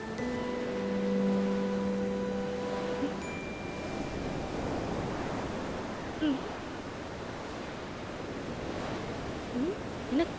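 Sea waves at the shore make a continuous, moderately faint wash of surf with low rushing swells, while soft tonal sounds linger early on.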